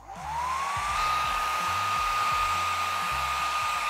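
A hair dryer blows hot air onto a mirrorless camera skin to loosen it for removal, switching on with a rising whine and then holding a loud, steady, close drone, with no talk.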